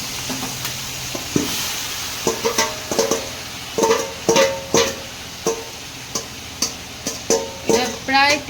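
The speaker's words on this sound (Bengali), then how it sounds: "পুরো মাংসটা দেখো দিয়ে দিচ্ছি" About three kilos of meat go into a hot pan and are stirred, a loud close sizzle with a run of rhythmic scraping strokes against the pan.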